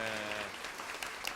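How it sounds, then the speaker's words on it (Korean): Brief applause from a lecture-show audience, a short burst of clapping at moderate volume, following the tail of a held musical tone. "박수 부탁드립니다."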